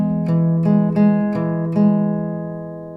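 An acoustic guitar picking pattern with a low bass note under plucked upper strings, five or so picked notes ringing out and fading at the end.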